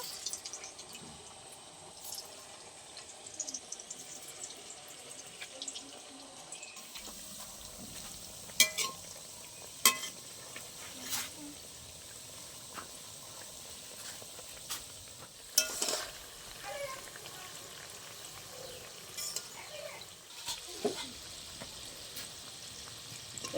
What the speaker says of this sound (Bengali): একই রকম ভাবে বাদ বাকি ল্যাংচাগুলো ভেজে নেব।